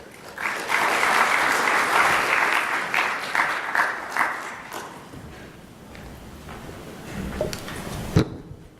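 An audience at a plenary session on electricity access applauds to welcome a speaker to the stage. Dense clapping swells quickly, holds, then thins to scattered claps and a few thumps as it fades.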